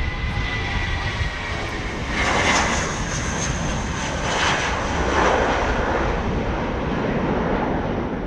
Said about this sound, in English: the British Airways A320 on its way to London Heathrow